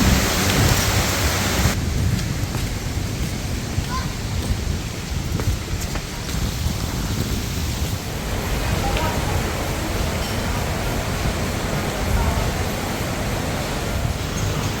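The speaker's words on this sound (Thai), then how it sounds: "พายุมาอีกแล้วครับ" Steady heavy rain roars throughout, a dense wash of noise with deep low rumbling mixed in, suggesting thunder within a storm.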